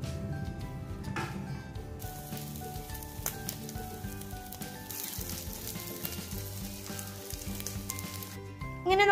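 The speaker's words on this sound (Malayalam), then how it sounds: "ഇനി ബാക്കിയുള്ളതും കൂടി ഒന്ന് ഇതുപോലെ തന്നെ ഒന്ന് ഫ്രൈ" Stuffed buns fry in a pan of hot oil with a steady, close sizzle and crackle, faint clinks and tones underneath, and a brief louder swell at the end.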